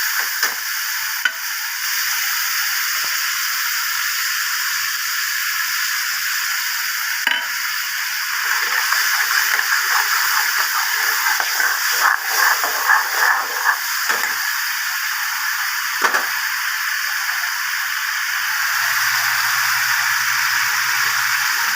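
Masala spice paste frying in a pan for a taro root and prawn curry, a steady close sizzle and hiss with occasional stirring clatters, running on without talk.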